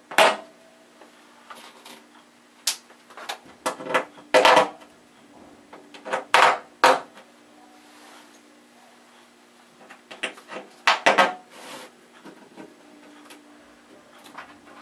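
Small screws and parts of a trapKAT electronic drum kit being pressed into place by hand, a series of sharp plastic clicks and knocks in scattered bursts, close and fairly loud over a low steady hum.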